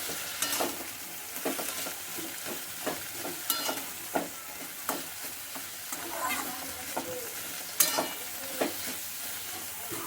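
Spiced vegetables with pumpkin stalks, papaya, potato, mustard and green chilli being stirred in a pan, a continuous close sizzle broken by regular scraping strokes of the spatula, with no talking.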